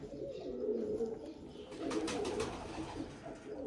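A flock of competition racing pigeons coos in soft, overlapping low throaty rolls, close and steady, without any voices.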